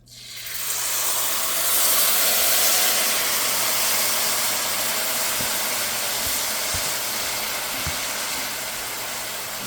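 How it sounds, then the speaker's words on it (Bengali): Sugar syrup for zarda semai poured into a hot pan of vermicelli, giving a steady loud hiss and sizzle of steam throughout, with a few faint low knocks near the end. "এখন এর ভিতরে ওই শিরাটা দিয়ে দেব"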